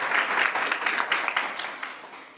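Audience applause during a Christian sermon, a dense wash of many hands clapping together, steady and fairly loud, then gradually thinning and fading toward the end.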